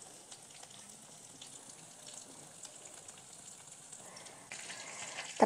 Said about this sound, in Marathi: तर आपल्या जिऱ्याचा असा तडतड आवाज येतोय